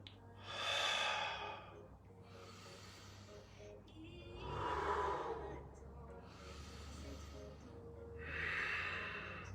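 Three slow, deep full-body breaths during a yoga session with arms raised overhead, each a long airy inhale and exhale, close and quiet over a low steady background hum.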